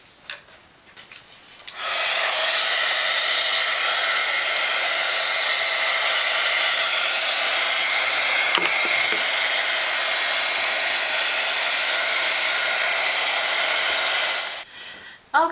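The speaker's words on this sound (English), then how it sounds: "I'm going to dry this, my heat gun." A heat gun blows steadily over a mixed-media art journal page, a loud constant hiss that starts abruptly and runs for about thirteen seconds before cutting off, with faint handling noises at either end.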